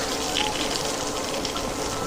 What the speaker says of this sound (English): Now you can hear the water coming off my tires.